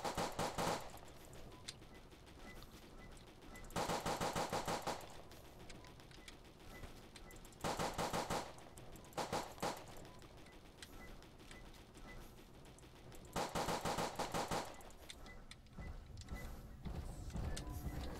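Gunfire in the Roblox horror survival game Edward the Man Eating Train comes in several separate bursts of rapid shots spread through the stretch, loud against a quieter game background, with no talking.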